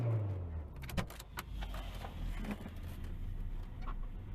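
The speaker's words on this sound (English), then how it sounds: "Oh, it idles so much smoother." A car engine turns over and settles into a smooth, steady idle, a low continuous rumble close by, with a brief jangle of keys near the start.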